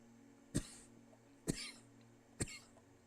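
Three sharp coughs at an even, steady pace in the game Blue Prince, each short and fairly close, with quiet room tone between them.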